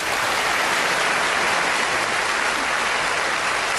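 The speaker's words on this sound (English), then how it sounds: "Give them a big round of applause, please." Applause from a live theatre audience at Morecambe Winter Gardens, a loud, dense, unbroken roar of clapping lasting nearly four seconds.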